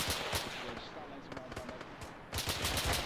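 Suppressing gunfire in the military shooter ArmA 3 rattles in a dense stream of rapid shots, some nearer and sharper, others distant, with a heavier burst near the end; chatter may sit faintly underneath.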